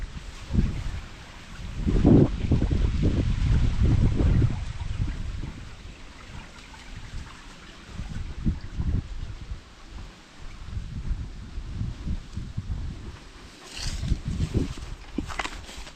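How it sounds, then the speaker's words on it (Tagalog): Wind rushes and buffets outdoors in uneven gusts, with low rumbling noise swelling and fading over the whole stretch. "grabe sarap ng hangin"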